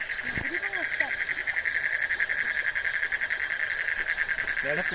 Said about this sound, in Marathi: हा आवाज ऐकताय ना, हा पूर्णपणे बेडकांचा आवाज आहे.